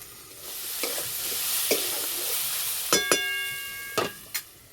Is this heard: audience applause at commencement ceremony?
no